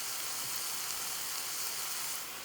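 Hot grease from cooked chili beef drains with a continuous, even sizzling hiss, moderately loud and close, with no voices over it.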